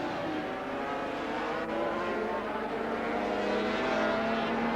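1982 Argentine 500cc Grand Prix motorcycles race past at Buenos Aires, a continuous distant engine drone with shifting pitch that carries steadily throughout, no commentary audible.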